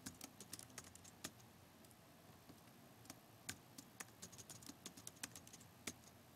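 Someone types an email address on a computer keyboard, a quick irregular run of crisp, close key clicks with brief pauses between bursts, clear over a quiet background and with no talking.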